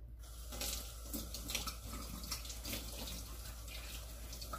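Kitchen tap water runs steadily into a sink to rinse an egg yolk separator, a continuous splashing hiss with a low hum underneath and no talking.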